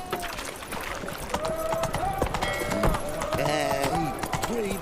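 Hooves of the horse Roach clip-clopping in the game Witcher 3, a steady gait heard under a voice talking throughout, with game music and ambient sounds mixed in.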